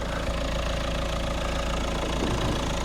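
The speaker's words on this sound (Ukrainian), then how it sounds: "Оцініть роботу двигуна на, по звуку, по відео." A Peugeot 5008 GT car engine idling steadily up close, a constant low rumble with a faint rhythmic knock and no voices.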